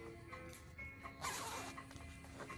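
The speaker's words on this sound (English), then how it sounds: "Let's just close the zipper so we can pull our fringe." Close zipper drawn shut along a fringed throw pillow cover, a quiet run of fine ratcheting clicks with a brighter burst midway.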